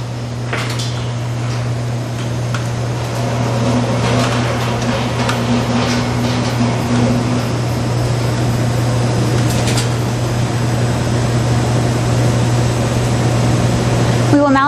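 A Feldmeier 1,350-gallon three-zone jacketed stainless steel mixing tank runs on three-phase 480-volt power, giving a steady electrical hum and motor drone with faint clanks and taps on top, continuous and fairly close.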